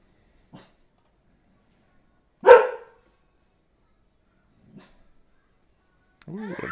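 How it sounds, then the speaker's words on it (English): A pet dog gives one sharp, loud bark indoors, preceded and followed by a couple of faint clicks, with a voice starting to speak at the very end. "Forgive my dog."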